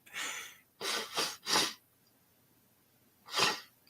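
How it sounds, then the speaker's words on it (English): A few breathy sneezes burst out in a quick cluster, followed after a pause by one more sharp sneeze, close and loud. "I got to sneeze."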